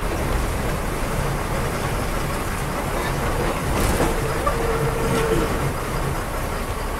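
An MSRTC bus on the Kolhapur to Goa route pulls away from a bus stand, its engine a steady low rumble and broadband road noise with no clear talk over it.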